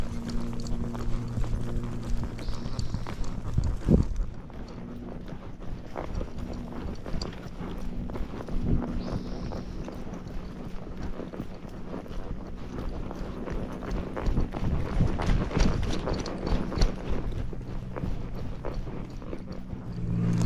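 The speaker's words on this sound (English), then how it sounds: "Now she starts doing more of her racking gait, which is fine." Hooves of a grey Missouri Fox Trotter mare in a racking gait on a trail, a quick, even clip-clop rhythm carrying on continuously, close and moderately loud, with some wind noise.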